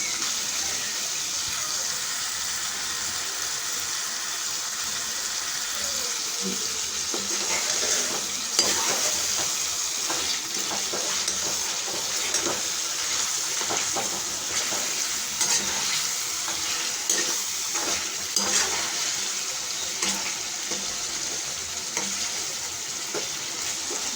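Masala, tomato and onion are stirred in a cooking pot for aloo gosht, making a continuous wet, squelching sizzle with scraping strokes that grow busier midway, close and steady, with no talking.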